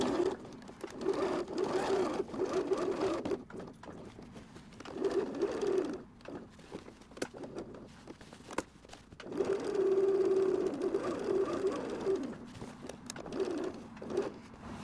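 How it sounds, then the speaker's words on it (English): A sewing machine stitching around a denim patch runs in a steady whirring drone close by. It stops and restarts in several stretches, with brief clicks and handling noise in the pauses. "First thing I'm gonna do is just sew around it to secure it"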